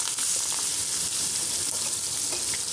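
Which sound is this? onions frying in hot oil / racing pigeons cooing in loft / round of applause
onions frying in hot oil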